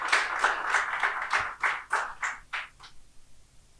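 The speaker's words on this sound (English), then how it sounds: "Round of applause for him as he takes the stage." Audience applause at a power-sector conference as a speaker takes the stage, a dense round of clapping that thins into a few distinct claps and stops.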